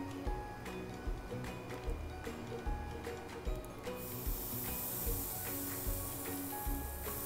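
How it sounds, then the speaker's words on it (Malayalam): Rava uthappam batter poured into a hot pan, a soft hiss that swells into a bright, continuous sizzle partway through, with scattered pops and crackles under faint background noise. "അതിലോട്ട് നമുക്ക് നല്ലോണം ഇളക്കി കൊടുത്ത് റവൻ്റെ മിക്സ് ഒഴിച്ചു കൊടുക്കാം"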